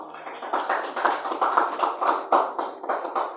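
A church congregation claps for Jesus, a dense run of hand claps with a loose, quick rhythm, moderately loud and filling the room with no talking over it.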